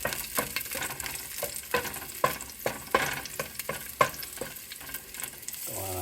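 Garlic cooking in a pan as it is stirred, with a soft sizzle and repeated scraping and tapping of a utensil in an irregular rhythm, fairly quiet and close, with no talking.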